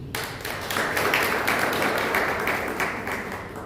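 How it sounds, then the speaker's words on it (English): Audience at a youth debate in Kabwe applauding, a dense, steady wash of many hands clapping at moderate volume, lasting a few seconds without talk. "A round of applause for him."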